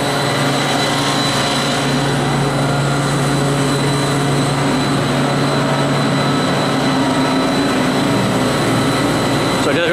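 The condenser fan on a 2007 Carrier Aquasnap 35-ton unit runs at full speed with a loud, steady roar and a hum. The sound holds constant and close throughout.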